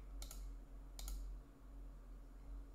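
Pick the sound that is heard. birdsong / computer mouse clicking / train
computer mouse clicking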